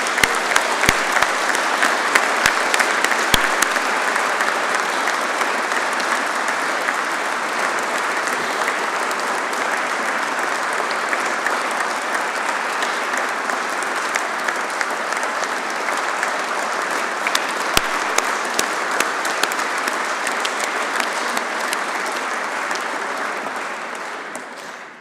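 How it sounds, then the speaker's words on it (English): Sustained audience applause at a military engineering awards ceremony, a dense, even wash of clapping from a large crowd lasting throughout and fading only at the very end. "Big round of applause please for Sapper Mark Holmes."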